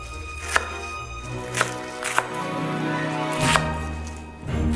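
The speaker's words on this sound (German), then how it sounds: "Und als nächstes werde ich dann das Gemüse in mundgerechte Stücke schneiden." A kitchen knife chops Chinese cabbage into bite-sized pieces on a board: four or five sharp, near strikes at irregular intervals over a faint background hum.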